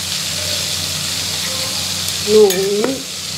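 Chili paste, ginger paste and turmeric stirred and fried in a pan, a steady close sizzle with a scraping stir and a brief louder burst near the end.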